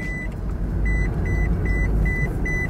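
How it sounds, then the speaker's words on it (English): A car's seatbelt warning chime, steady and evenly spaced, repeats over a low constant engine hum inside the car. "It's beeping because you don't have your seatbelt in"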